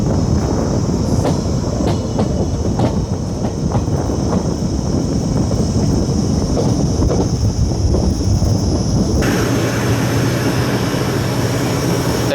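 Passenger train running from Kushtagi to Hubballi on its first run, heard from on board as it accelerates, with a loud continuous roar and rumble, rhythmic wheel clatter and a rising whine.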